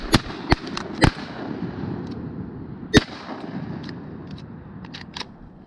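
Shotgun blasts ring out on a duck hunt: three sharp, loud reports in quick succession, then a fourth after a short pause, with fainter clicks and outdoor ambience between them.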